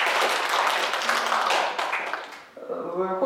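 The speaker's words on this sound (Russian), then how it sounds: "Ну, бурные аплодисменты, да," An audience claps for a geography lecturer at a lecture: dense applause that gradually thins and fades, then a voice begins speaking near the end.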